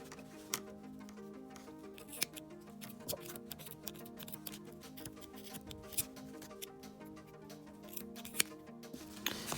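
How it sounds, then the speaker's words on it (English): Scissors snip repeatedly through a yarn pom-pom for a cactus craft, giving quiet, irregular clicking cuts over steady faint background. "and we're gonna start trimming"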